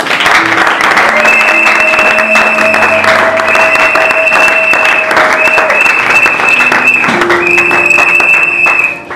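A church congregation applauding during a worship service, loud dense clapping that runs without a break, with sustained tones of music carrying over it.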